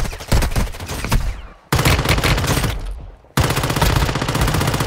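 Rapid automatic gunfire from the Warzone Mobile shooter game, loud and dense, in three sustained bursts separated by brief pauses.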